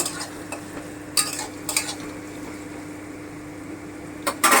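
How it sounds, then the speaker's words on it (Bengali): Chopped onion lightly frying in a pan for poppy seed chicken gives a steady soft sizzle, broken by a few brief scraping stirs near the start and a louder stir at the end; no voices. "এবার পেঁয়াজ কুচিটা হালকা করে ভেজে নেব"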